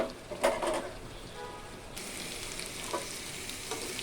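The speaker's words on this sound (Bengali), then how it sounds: "আমি করলা ভাজিটা আর একটু সিদ্ধ হয়ে নেবে তারপর আমি করলা ভাজিটাকে তুলে ফেলবো" Bitter gourd fries in a pan with a soft continuous sizzle, punctuated by a few stirring scrapes and clatters near the start.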